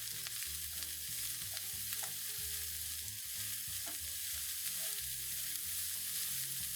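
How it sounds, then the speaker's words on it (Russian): Grated carrots and onions frying in a pan, a steady low sizzle and bubbling running throughout with a few soft stirring knocks, fairly quiet and alone. "Добавляем морковь к луку и обжариваем до появления золотистости."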